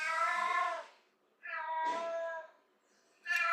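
A house cat meows three times in long, drawn-out, tonal calls separated by short pauses, loud and close, with no other sound around it.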